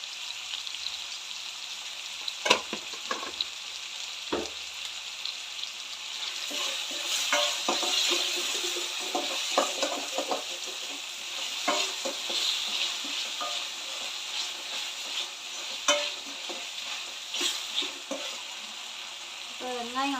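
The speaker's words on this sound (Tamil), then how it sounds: "இப்போ வெங்காயம் வந்து நல்லா வதங்கி நல்லா குழஞ்சி வரட்டும்." Onions and tomatoes sauté in a pan for egg curry, a steady bright sizzle running throughout with occasional sharper pops and spatula stirs, fairly close and continuous with no talking.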